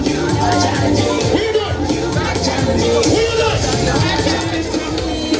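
A small crowd at a street event chatters steadily at close range, overlapping voices forming a continuous babble.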